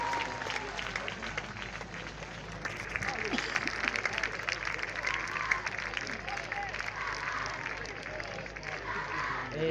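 Students clap for a girls' college inauguration, a dense sustained round of applause with crowd noise, steady and fairly loud across the whole stretch.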